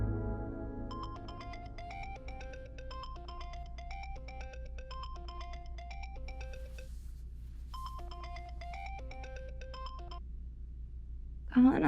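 A phone ringtone plays a repeating electronic melody for most of the stretch, pausing briefly before resuming, moderately loud over a low room hum.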